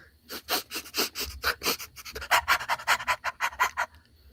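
A voice imitates a dog panting: rapid, rhythmic breathy huffs repeated steadily and close up, with no other talk.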